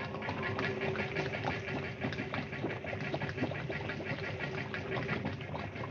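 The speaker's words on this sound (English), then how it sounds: "Try that compressor, will you?" A compressor running aboard a Coast Guard vessel in an old Hollywood film: a steady, dense mechanical chugging drone with a rapid pulsing texture, loud and continuous throughout.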